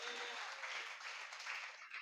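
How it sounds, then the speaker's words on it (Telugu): A church congregation applauding, a dense, even wash of many hands clapping that carries on through the whole short stretch at a moderate, slightly distant level. "చప్పట్లు కొట్టండి గట్టిగా."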